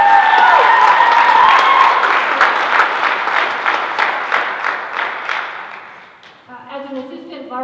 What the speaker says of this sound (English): Round of applause for Zane.